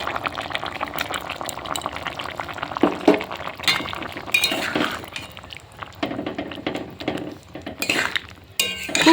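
Poppy seed paste goes into boiled potatoes and onions in a pan and gets stirred, with close-up metal spoon scrapes, clinks and wet mixing sounds coming in irregular bursts, and no talking.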